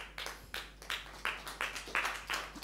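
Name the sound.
audience applause in church service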